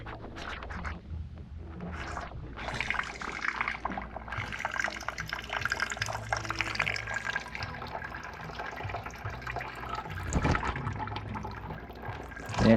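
Water drains steadily from a hotdog cart under repair, a continuous splashing, trickling flow up close with scattered scrapes and knocks, no voices.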